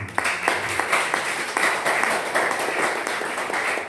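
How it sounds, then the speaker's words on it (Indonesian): A congregation at an Indonesian pastors' church fellowship claps hands, a dense, fairly loud burst of applause with some rhythmic pulses, continuing steadily for a few seconds. "Tepuk tangan untuk Tuhan."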